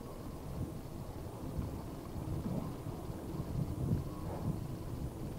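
Wind roaring across the microphone during an electric bike tour, a low steady rumble that rises and falls in gusts, with no talking.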